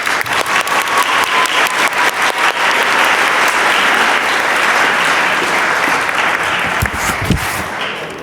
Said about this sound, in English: A round of applause for my homeroom.